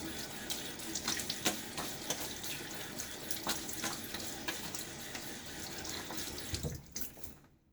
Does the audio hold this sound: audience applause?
no